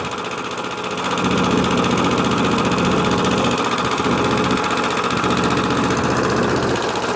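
A small engine runs with its choke on, giving a steady, close, buzzing drone that rises slightly after the first second and then holds evenly.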